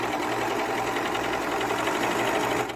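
Sewing machine running a seam on a girl's dress, a fast, even needle rattle over the motor hum, close and loud, stopping at the end.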